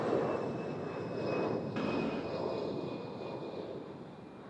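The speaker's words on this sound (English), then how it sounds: "Air Canada Rouge with the first go around today" An Air Canada Rouge airliner going around at Toronto airport, a steady broad roar of jet engines holding at a distance for several seconds, with wind noise and no voices.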